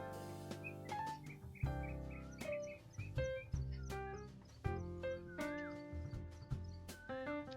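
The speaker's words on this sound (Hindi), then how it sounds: "कोयल की आवाज सुन रही है आपको?" An Asian koel calls outdoors on a morning walk, its rising whistled notes repeating among other birdsong and sharp clip-clop knocks, fairly faint overall.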